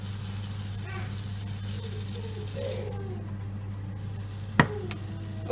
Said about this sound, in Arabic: اول حاجة كنعمل هنايا الزبدة تذوب